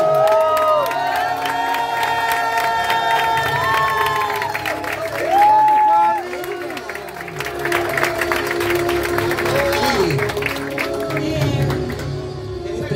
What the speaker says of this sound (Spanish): quiero un fuerte aplauso porque ya se sabe, una ovación para